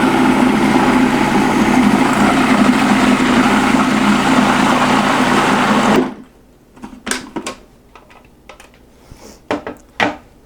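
A food processor runs steadily and loudly while blending walnut sauce with broth, a constant whirring motor for about six seconds before it stops, followed by scattered clinks and knocks.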